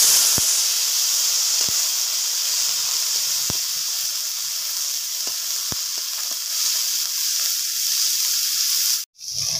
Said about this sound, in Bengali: নিম কড়িগুলো আমি ভেজে নেব তেলে।